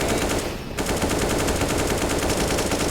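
An M249 machine gun firing in a competitive video game match, a loud dense rapid burst that runs almost continuously with a brief dip early on, no voices over it.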